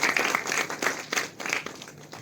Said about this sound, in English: I think we all should give them a round of applause for what they are